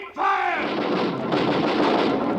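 A loud artillery battery firing as a radio drama sound effect in a War of the Worlds broadcast, one booming blast followed by a rolling, rumbling roar that carries on to the end without talk.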